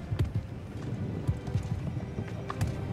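A horse's hooves clip-clop in the video game Star Stable, a close, brisk rhythm of distinct hoofbeats over a soft background hum, with no talking.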